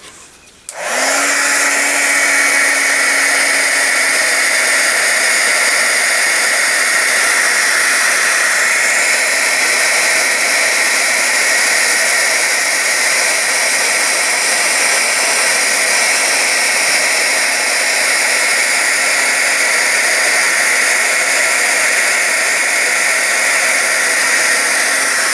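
A small heat embossing tool clicks on and then blows hot air with a loud, steady, unbroken whoosh and hum, running close up for the whole stretch with no talk.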